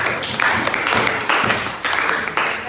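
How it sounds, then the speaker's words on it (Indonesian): A classroom of schoolchildren claps together for classmates who scored 100 on a test, a close, fairly loud burst of hand claps that swells and dips in several waves, with no talking over it. "Tepuk tangan dong yang dapat nilai 100."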